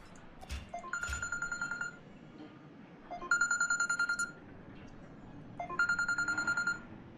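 A phone rings from an unknown number in the Jurassic World Evolution video game, three bursts of rapid electronic trilling tones spaced a couple of seconds apart, fairly clear over a faint background.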